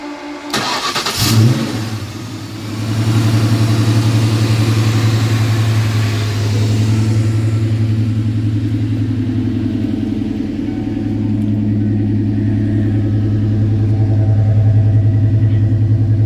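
A Vortech-supercharged SN95 Ford Mustang V8 cranks, catches and settles into a loud, steady, lumpy idle close by, its low rumble holding with slight fluctuations throughout.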